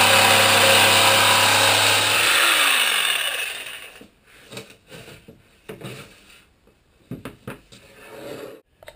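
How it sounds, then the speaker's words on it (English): A power saw cuts half-inch plywood gussets, loud and steady for about two seconds before winding down, followed by scattered clunks and knocks of boards being handled nearby. "I got the gussets all cut out from 1/2 inch plywood"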